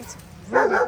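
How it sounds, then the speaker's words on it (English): A dog gives a single short bark near the end, fairly close, after a brief spoken phrase and a bit of quiet outdoor background. "Sorry about the dogs."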